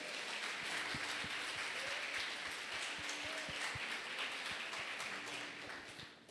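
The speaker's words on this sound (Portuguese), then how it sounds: "Vamos aplaudir Jesus mais uma vez?" A church congregation claps together after a service, a steady wash of applause filling the room with scattered sharper hand claps, and faint background voices beneath.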